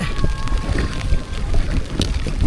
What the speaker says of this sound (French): Là, le vent s'est levé avec la pluie.